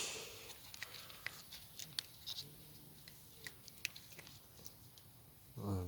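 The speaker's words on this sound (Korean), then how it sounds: "아이고 잘 먹네 우리 파이." An outdoor cat being fed in a park after rain chews its food, making soft, irregular crunchy clicks and wet smacks up close at low volume, with a person speaking briefly at the very end.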